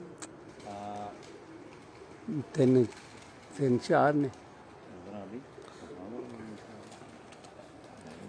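Pigeons coo in low, rounded bursts close by in Amra Kalan, Dinga, a few calls clustered mid-clip, with people talking quietly in the background.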